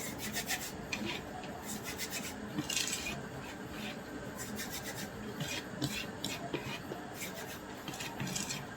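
Bread is rubbed and crumbled into powder by hand, a steady close rasping and scratching that goes on without pause.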